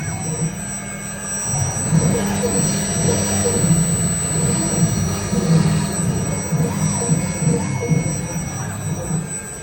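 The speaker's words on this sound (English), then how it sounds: "RBWOOD CNC rotor K1-2130." An RBWOOD K1-2130 CNC router with a calibration sensor runs steadily, giving a continuous mechanical whine and hum with a high tonal spindle pitch and a fluctuating motor drone that stays moderately loud throughout.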